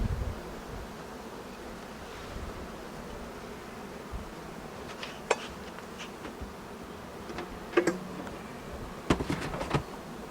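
A steady outdoor insect hum of bees around hives, with occasional brief clicks and faint rustling, no voices.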